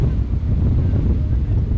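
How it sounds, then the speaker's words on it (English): Strong wind roars and buffets continuously across a cricket ground, a dense low rumble of gusts battering close by with no pause. "Windy conditions here. Very windy conditions here."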